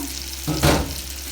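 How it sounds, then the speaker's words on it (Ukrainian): Fish frying in a pan on a stovetop, giving a steady broadband sizzle that swells briefly midway, as if stirred or turned, with no talking. "не вперше я смажу рибу, а саме смажу ось цю рибу"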